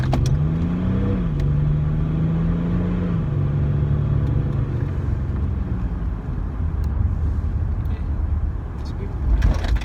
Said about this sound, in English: Try a hard takeoff, spooling up the turbo and releasing.